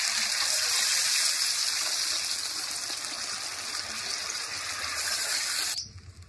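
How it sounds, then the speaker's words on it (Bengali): Water pours steadily into a pan of browned curry, a continuous close gushing stream that stops abruptly near the end. "পরিমাণ মতো জল দিয়ে দেব।"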